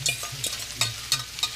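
Saltfish sautéing in hot oil in a pan, Trini style, with a low steady sizzle broken by several quick scraping stirs of a utensil, close and fairly loud.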